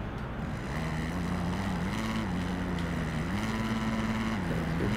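A motocross bike engine in the racing game Monster Energy Supercross drones steadily with a low, wavering pitch that rises and dips through gear changes over constant wind-like noise, loud and continuous, with no talking.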